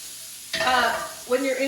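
Food sautéing in a saute pan with little fat, a sudden steady sizzle starting partway through, swelling briefly with a stir near the end, close and fairly loud.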